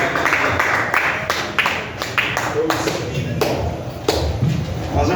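Comedy club audience giving a round of applause for the next comedian, a busy, loud wash of clapping hands with scattered sharp claps, close and continuous.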